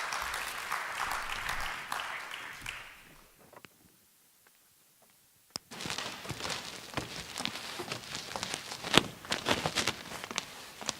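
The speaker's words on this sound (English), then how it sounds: "So let's give her a round of applause for Jen Holland as she comes on stage" An audience at a school district State of the Schools evening applauds as the PTA council president walks onto the stage. The clapping is moderate and fades into a brief near-silence before noisier shuffling and scattered claps return.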